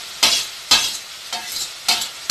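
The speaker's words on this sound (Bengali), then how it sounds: "এই রসুন আদা একবারে আমি টমেটোটাও দিয়ে ভালো করে মশলাটাকে ভাজা ভাজা করে নেব" Garlic, ginger and tomato spice paste frying in a pan, with four sharp stirring scrapes over a soft steady sizzle, close and alone.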